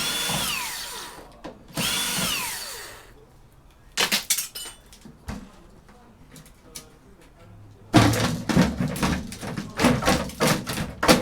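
A power drill whirring in short bursts as it backs screws out of scrap Cisco networking equipment with aluminium parts, with clinks and rattles of loose metal between runs and a denser stretch of drilling and handling noise toward the end.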